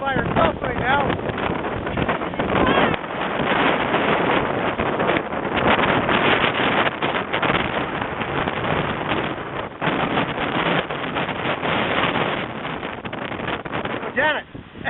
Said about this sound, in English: It got pretty windy under there, didn't it?